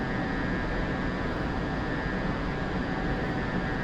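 An aircraft engine in the DCS World flight simulator hums as a steady, broad roar with a faint high whine, constant and unbroken throughout.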